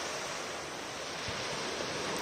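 Sea waves washing onto the shore at a forest campsite, a steady broadband surf wash with some wind, moderately distant and continuous, with no talk.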